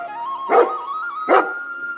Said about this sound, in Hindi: को देखकर जोर जोर से भौंकना शुरू कर देता है।